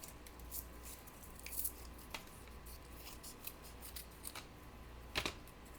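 Scissors snip through a piece of craft material, cutting it in half with a few quiet, scattered clicks and snips in an otherwise hushed room.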